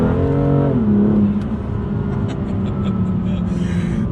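BMW M2 Competition engine with DCT gearbox, heard close up as the revs step down through quick downshifts with blips, then settle into a steady deep rumble.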